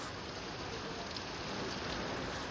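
Heavy rain pours down during a peak-summer storm, a steady, even wash of noise heard from a distance without a break.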